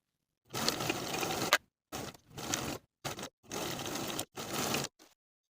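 A sewing machine stitches a coat facing seam in fabric, running in five or six steady bursts of whirring with short pauses between them, close and fairly quiet, with no talk.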